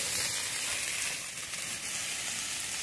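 Spices fry in hot oil for a fish and eggplant curry, giving a dense, steady sizzle and hiss that stays loud and close throughout with no talking.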